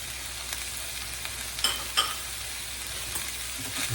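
Jalapenos, cilantro, green onions and heart of palm rice cook together in a pan over medium heat, giving a constant soft frying sizzle with a couple of brief stirring clicks and no talking.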